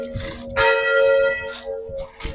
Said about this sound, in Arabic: ما بقبل حدا غيري يدق الجرس نهار الأحد بالكنيسة